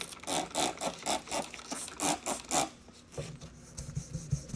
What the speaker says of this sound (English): Let's give it a little wet sand with some of this 3200.